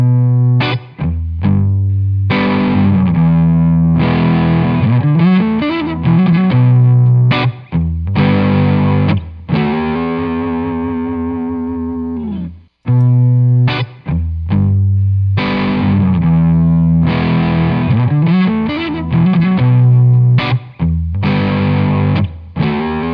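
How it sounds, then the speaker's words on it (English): An electric guitar played through a modded Tube Screamer overdrive pedal, with loud, saturated chords and bending single-note phrases, separated by brief pauses and one sustained ringing note near the middle. "it's a modded tube screamer sound"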